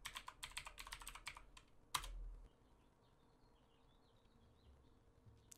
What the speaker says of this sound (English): Then I'm just going to type in my password.